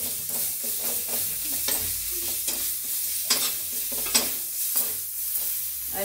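Black pepper, cumin and garlic paste sizzles and fries in a pan while being stirred, with steady crackling and repeated scraping strokes throughout, no voices.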